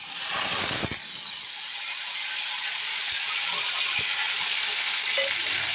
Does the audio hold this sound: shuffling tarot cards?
no